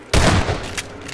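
A single loud shotgun blast in the video game Human Error, a sharp boom that rings and decays, followed by a fainter second report.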